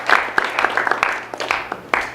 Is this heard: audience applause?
yes